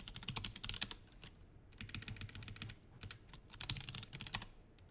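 Rapid clattering keystrokes on a computer keyboard, typed in quick bursts with short pauses, close and fairly quiet, with no talking.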